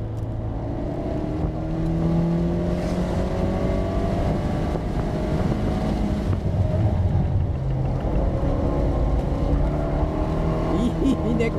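Abarth car driving on a race circuit during a rear-wheel-drive track test, its engine droning steadily and loudly up close with shifting pitch over about twelve seconds.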